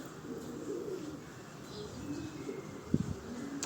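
Pigeons coo softly at a loft in blustery weather, faint low calls over a steady wind-like background with one brief louder flutter near the end.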